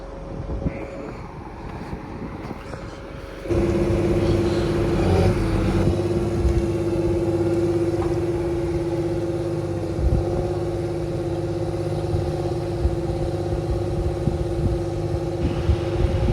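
A John Deere 8420 tractor engine runs nearby at a steady idle, a continuous low droning rumble with a constant tonal hum and some wind buffeting, holding level throughout.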